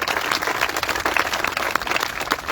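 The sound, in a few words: audience applause at a ribbon cutting ceremony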